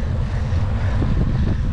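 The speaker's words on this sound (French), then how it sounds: "Dans le vent et la tempête de neige" Steady, loud wind of a snowstorm roaring across a microphone, a dense low rumble with gusty buffeting and no voices.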